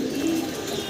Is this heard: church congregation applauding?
no